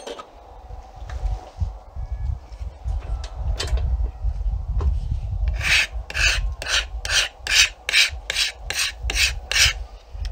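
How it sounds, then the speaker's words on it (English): Rhythmic scraping of a card scraper on a wooden self bow: a low rasping rub at first, then a steady run of about ten sharp, bright strokes in even succession, close up. "this is just my card scraper"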